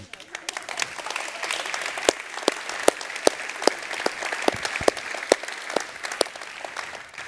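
An audience claps steadily at an award ceremony for a chemistry medal, with a full round of hand claps and a few sharper individual claps standing out, and no voices over it.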